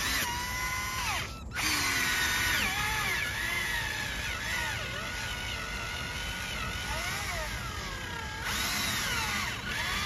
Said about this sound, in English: with some water and simply start sanding it slowly